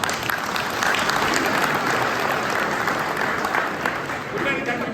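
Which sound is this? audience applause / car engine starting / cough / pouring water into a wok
audience applause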